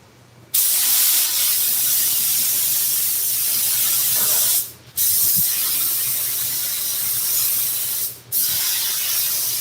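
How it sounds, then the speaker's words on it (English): Spray adhesive hisses out of a can in long, steady bursts onto the edge of a 1957 car seat, three in all, each separated by a brief pause. "All you do is just spray it around the edge."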